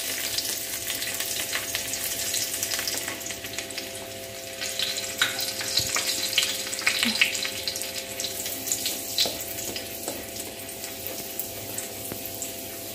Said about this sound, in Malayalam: ഇനി എണ്ണ ചൂടായ ശേഷം നമ്മൾ ഗാർലിക്ക്, മൂന്ന് ഗാർലിക്ക് കുഞ്ഞായിട്ട് അരിഞ്ഞതായി, മൂന്ന് വെളുത്തുള്ളി കുഞ്ഞായിട്ട് അരിഞ്ഞു അതിട്ട് കൊടുക്കും